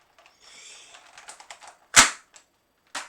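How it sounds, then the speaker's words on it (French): An airsoft pistol's slide is racked and a BB feeds from the magazine into the mechanism, heard as a run of small close clicks followed by two sharp, loud mechanical snaps about a second apart. "Quand on ramène en arrière, pouf, il y a une bille qui est éjectée du chargeur qui va dans le mécanisme."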